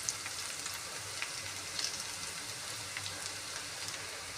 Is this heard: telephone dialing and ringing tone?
no